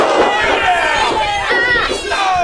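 Crowd noise at a live pro wrestling event rising behind Oliver Sawyer during a pin attempt after a dragon suplex, with steady loud cheering and chatter throughout, excited commentary speaking over it.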